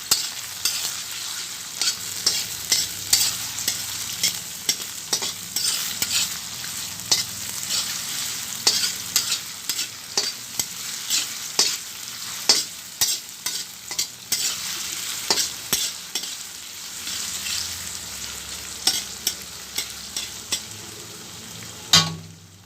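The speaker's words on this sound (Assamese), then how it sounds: "তেলো গৰম হ'ল এতিয়া পিঁয়াজটো দি আছোঁ পিঁয়াজটো লাৰি দিলোঁ" Onions frying in hot oil, stirred continuously, with a bright steady sizzle and frequent scraping strokes of the spatula against the pan, close and loud, no voices.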